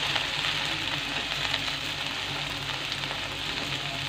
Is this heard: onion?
yes